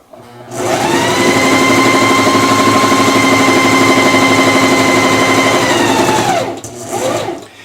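A sewing machine runs steadily at close range, stitching along the top edge of a fabric stocking for several seconds before slowing to a stop, followed by a brief short burst.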